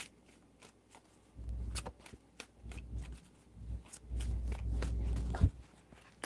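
Tarot cards are shuffled by hand in two bursts of soft riffling and rustling, close and fairly quiet, with light taps and handling noises around them.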